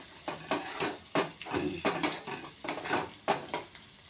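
Tomatoes and coriander sautéed in a pan, heard as a spoon scraping and stirring against the pan in repeated close, clattery strokes, about a dozen in quick succession.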